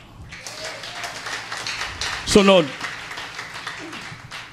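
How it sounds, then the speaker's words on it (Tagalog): A church congregation at a Filipino preaching service bursts into applause on the preacher's cue, steady crowd clapping throughout with a brief spoken word from the preacher in the middle. "Palakpak."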